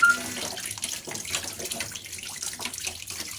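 Wheat flour dough is washed under a running tap, a steady close splashing stream with uneven gurgles and slaps as the dough is worked in the water, with no talk.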